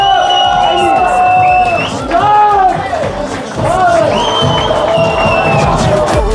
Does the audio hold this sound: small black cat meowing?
no